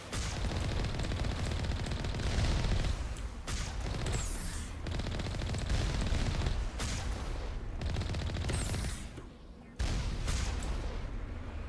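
Alliance turrets firing in the video game Mass Effect, sustained rapid gunfire bursts rattling in repeated volleys with brief pauses, moderately loud and steady throughout.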